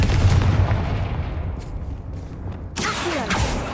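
A loud, booming blast from the Confringo fire spell in the Hogwarts Legacy video game rumbles and fades, followed by a fresh burst of crackling impact noise near the end, with no talking.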